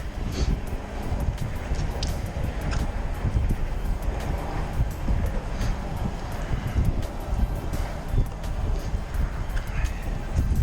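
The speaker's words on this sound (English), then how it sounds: "Guys, it's getting chilly out here now. That wind switched up." Chilly outdoor wind gusting steadily by a railroad bridge over water, a constant low rumbling buffet on the microphone lasting throughout with faint rustles and small knocks on top.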